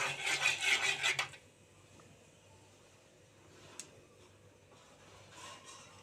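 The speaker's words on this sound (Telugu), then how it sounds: "ఆవాలు చిట్టుపట్టు అంటున్నాయండి." Mustard seeds, fenugreek and cumin crackle and pop in hot oil in a pan while tempering for tomato rasam, a brief busy burst of spluttering at the start that dies down to a faint sizzle with a few isolated pops.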